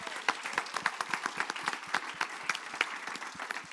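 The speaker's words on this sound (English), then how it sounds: "So also big applause to Roland News." A crowd at a documentary premiere applauds warmly, many hands clapping in a dense, lively patter with distinct individual claps standing out, sustained without letup.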